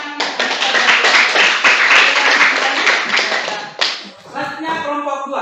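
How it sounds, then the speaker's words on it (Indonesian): Students in a classroom clap together in a quick, loud burst of rhythmic hand claps that breaks off near the end, followed by a moment of voices. "Tepuk tangan."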